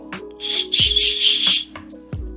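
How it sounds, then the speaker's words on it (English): A mini whistle on a Shimoda Explore V2 backpack is blown in three or four short, shrill bursts close to the listener, separated by brief clicks and handling sounds. "when you have it connected, there's also like a mini whistle on it."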